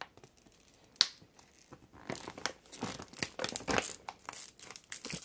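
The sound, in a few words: cutting holes in a folded grow bag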